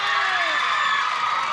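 Game show studio audience cheering loudly and steadily, a dense wall of whoops and applause-like crowd noise that fills the room, with a voice sliding through it early on.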